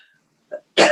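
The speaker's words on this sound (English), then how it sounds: "while you're coughing here" A person coughs twice in a quiet committee hearing room, a short muffled cough followed by a louder, harsher one, close and isolated.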